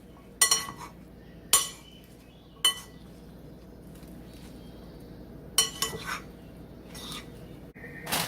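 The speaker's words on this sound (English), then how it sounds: "I'm gonna mix this well." Taco salad with Fritos is mixed in a bowl with a utensil, producing several sharp clinks and scrapes against the bowl, spaced out and close, over a quiet room without talk.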